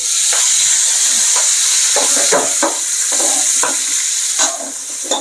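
Chayote shoots and squash sautéing in a frying pan, a steady close sizzle and hiss broken by repeated scraping, clattering strokes of a spoon stirring through the vegetables, with no talking.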